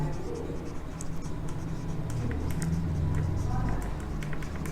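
Chalk or marker writing on a board in a classroom, a run of quick scratchy strokes and taps under a teacher's steady talking.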